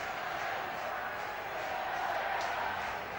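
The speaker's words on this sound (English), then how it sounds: "they stand, they applaud, they cheer." Hockey fans at a Cardiff Devils play-off game against the Sheffield Steelers stand, applaud and cheer, making a continuous far-off crowd roar under a commentator's talk.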